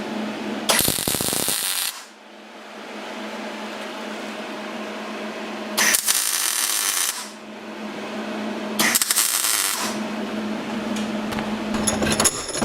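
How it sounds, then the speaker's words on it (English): Welding a motorcycle exhaust baffle, heard as three long loud crackling bursts of several seconds each, separated by quieter gaps with a low steady hum, with no talking. "Weld it up."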